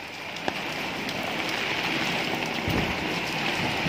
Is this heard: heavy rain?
yes